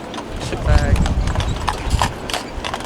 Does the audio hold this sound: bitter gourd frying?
no